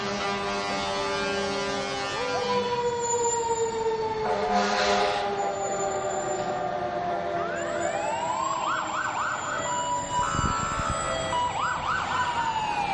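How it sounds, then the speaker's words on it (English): Wailing and yelping sirens from fire trucks and rescue vehicles, including Carter's Valley Fire and Rescue and the Kingsport Life-Saving Crew, blare loud and close along a Christmas parade route, rising and falling over crowd noise. "Boy, the sirens are going off loud and clear."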